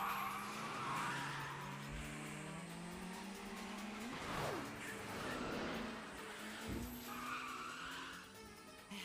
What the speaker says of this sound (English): Start the drift now.